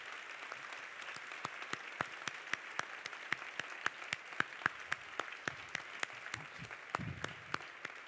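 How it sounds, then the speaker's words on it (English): Quiet, sparse clapping from a small audience welcoming speakers onto a stage, sharp individual claps falling in a steady, fairly even rhythm with a few soft bumps of movement near the end. "Please give them a big round of applause."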